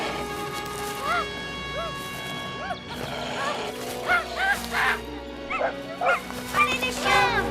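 Dogs bark in short excited bursts while being urged on to attack, the yaps scattered and overlapping at mid distance over a buzzing outdoor background.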